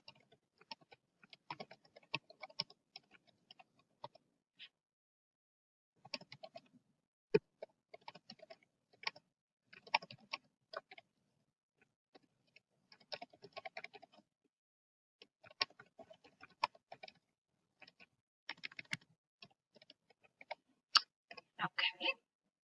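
Quiet clicking of computer keyboard keys comes in short bursts separated by pauses while someone fills in a tutoring appointment form, close and soft with no voices.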